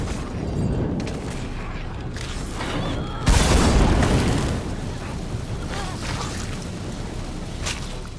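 A single explosive detonating in State of Decay 2, a sudden loud boom that rolls off over a couple of seconds amid ongoing game noise, with a voice talking faintly.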